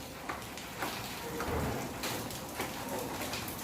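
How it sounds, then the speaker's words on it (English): Heavy rain falls in a steady, moderately quiet wash of hiss, with occasional louder patters and splashes breaking through the constant downpour. "It's raining heavily."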